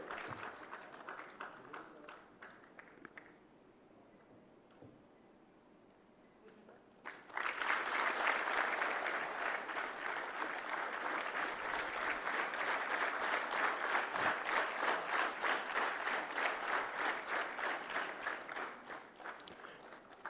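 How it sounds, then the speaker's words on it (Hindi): At a Rapid Action Force 32nd anniversary ceremony, a crowd greets a trophy-winning battalion commandant. The first seven seconds are quiet, then loud, steady applause bursts in and continues until it fades slightly near the end. "दर्शकों से अनुरोध, जोरदार तालियों के गड़गड़ाहट से स्वागत करें ट्रॉफी विजेता श्री जगदीश बलाई"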